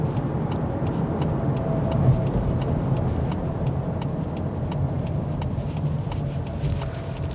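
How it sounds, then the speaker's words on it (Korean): Steady road and engine noise from inside a 2024 Honda CR-V hybrid AWD cruising on a Seoul highway, with a constant low rumble and a regular faint ticking throughout. "지금 송파시로 진입을 해서 서울 외곽순환도로랑 올림픽대로 타고 잠실 종합운동장까지 한번 주행을 해 보도록 하겠습니다."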